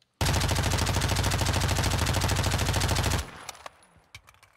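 MP5 submachine gun in Call of Duty: Modern Warfare II firing one sustained, loud, rapid automatic burst for about three seconds, then stopping abruptly with a few faint trailing sounds afterward.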